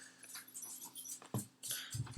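Puppies whimper and whine in short, high-pitched bursts with soft scuffling and a few low thumps of play, close by and fairly quiet.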